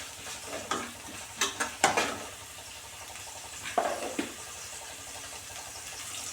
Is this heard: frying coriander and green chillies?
yes